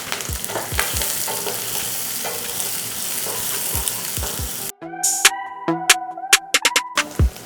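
Curry leaves and chopped onion sizzle in hot oil for a carrot stir-fry, a loud steady crackle that cuts out abruptly, followed by sharp clinks and scrapes of stirring in the pan.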